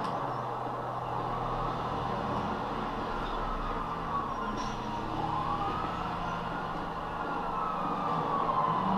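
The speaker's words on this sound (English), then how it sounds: "Police car." A police car siren in the video game Grand Theft Auto V on PlayStation 3, wailing steadily up and down over constant engine and traffic rumble, loud and continuous throughout.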